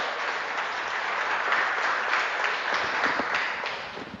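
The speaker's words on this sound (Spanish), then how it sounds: "¿Cuántos dan un fuerte aplauso al Rey de Reyes?" A church congregation gives a strong round of applause during a sermon, dense sustained clapping from many hands filling the room, steady and loud throughout.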